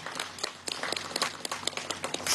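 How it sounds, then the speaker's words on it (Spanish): A room full of people claps for the people of Venezuela during a national quarantine broadcast, brisk dense applause of many hands lasting a couple of seconds, close and lively. "Quiero pedir un aplauso al pueblo de Venezuela en este día 31 de la cuarentena nacional"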